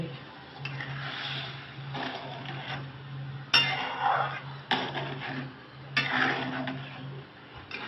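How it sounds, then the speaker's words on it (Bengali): Gobindobhog rice pulao being stirred in a cooking pot, with scraping and rubbing strokes of a spoon against the pot and a few sharper clinks, close by and under a low steady hum. "এবার একটু নাড়িয়ে নিলাম ঢাকা দিয়ে দিলাম"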